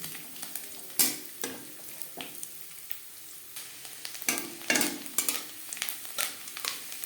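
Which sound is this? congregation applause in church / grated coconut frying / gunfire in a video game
grated coconut frying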